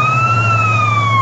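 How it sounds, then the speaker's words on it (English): An ambulance siren wails loudly and close by, its steady rising and falling tone held over a low engine rumble. "ambulance"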